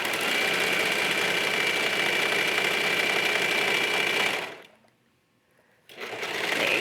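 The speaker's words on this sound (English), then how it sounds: "I'm using a 4-thread overlock stitch because it's a little stronger" A 4-thread overlock sewing machine stitching around the edge of a pocket runs in a steady, loud, close whir, stops for about a second and a half, then starts up again.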